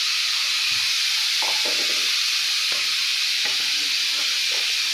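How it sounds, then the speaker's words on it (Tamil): Curry with mixed vegetables and coconut bubbles vigorously in a pot, a loud continuous hiss and seething simmer with faint occasional pops and stirring knocks, no voices. "நல்லா கலகலன்னு கொதிக்குது."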